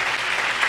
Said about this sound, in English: Can we clap our hands